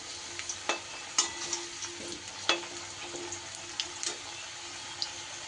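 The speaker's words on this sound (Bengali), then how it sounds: "আলুগুলোকেও খুব ভালো করে আমি ভেজে নেব" Potato pieces fry in oil in a pan, a soft steady sizzle with scattered crackles and spatters, plus a few sharp scraping stirs.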